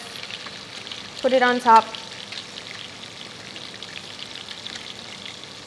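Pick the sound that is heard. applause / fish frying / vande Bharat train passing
fish frying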